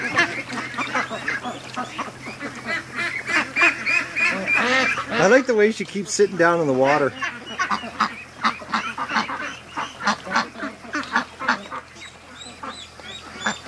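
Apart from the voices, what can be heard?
ducks at the lake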